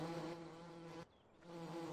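Bees buzz steadily in Farming Simulator 17, a close, droning hum with a brief dip partway through before the buzzing swells back.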